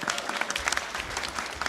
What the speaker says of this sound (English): applause if you want to, stand up if you want to